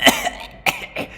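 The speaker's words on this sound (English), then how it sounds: "his laughter turning into a wheezing cough" A man's laughter breaking into a wheezing cough, three short raspy bursts close and distinct over a bit more than a second.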